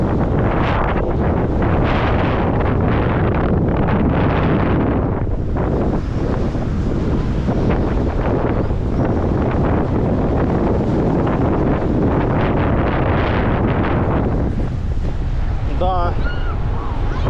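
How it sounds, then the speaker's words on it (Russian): Strong wind on a stormy seaside embankment in Crimea buffets the microphone in a constant roar, with surf rumbling underneath and a voice speaking briefly near the end. "Ну тут, как всегда, ветер"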